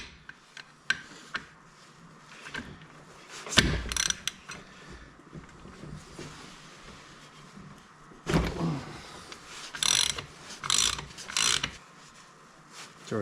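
Socket wrench ratcheting in short bursts while swapping a T56 transmission into a C4 Corvette in a garage, with intermittent mechanical clicks and handling noises, moderately close.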